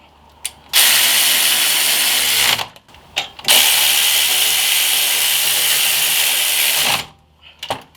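A power tool tightens the axle nut on a 2008-2012 Chevy Malibu during a hub bearing replacement, two loud sustained whirring bursts separated by a short pause, close up with no talk.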